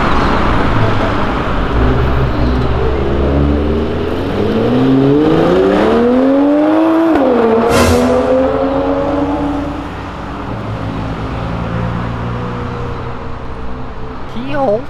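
A Dodge Ram pickup fitted with a Viper engine of over 500 hp roars nearby, its note sweeping sharply up and back down mid-stretch, then settling to a lower rumble while people talk throughout.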